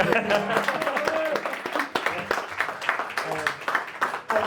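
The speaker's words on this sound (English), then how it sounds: "We'll give him an applause." Audience applause at a live December 2022 talk event, a dense patter of claps filling the room for several seconds, mixed with voices speaking over it.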